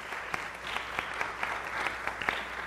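Steady audience applause at a psychology students' debate, a dense continuous patter of clapping heard from a moderate distance, fairly soft throughout.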